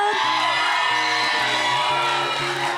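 A pageant audience cheers loudly, a dense wall of whoops, yells and shouting from a large crowd that stays sustained and close throughout.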